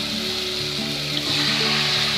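Cleaned chicken pieces go into a simmering onion and tomato masala for a chicken kulambu, a moderate bubbling sizzle with faint tonal hum underneath and a slight rise in level partway through, no voices.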